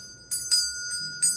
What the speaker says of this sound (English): creepy bell.